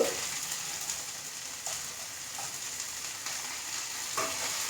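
Ponnanganni spinach stir-fries in a pan with a soft, steady sizzle, broken by a few light scrapes and clinks as it is stirred, no voices present.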